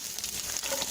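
Chopped onions fry and sizzle in hot oil in a pan over mustard seeds, a steady close hiss lasting about a second, for a sweet corn masala dosa filling.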